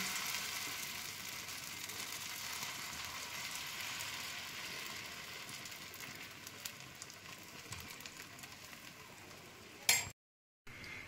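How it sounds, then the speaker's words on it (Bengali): Oats and lentil batter sizzles steadily on a lightly oiled pan, a close, even hiss of frying that holds for about ten seconds before a brief clatter and sudden silence. "এবার আমি যে ব্যাটারটা বানিয়ে রেখেছিলাম, ব্যাটারটা আমি একটু দিয়ে দিচ্ছি"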